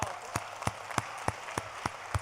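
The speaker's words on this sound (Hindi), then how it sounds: "एक बार अच्छे से ताली बजा दीजिए" Audience applause at a live Hindi poetry recital on Lord Ram, steady and crowd-wide, with sharp claps standing out at a regular rhythm above the wash of hands.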